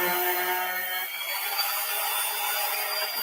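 Continuous whirring and rasping of sanding on a wooden vanity surface, steady and fairly loud with no pauses or talking.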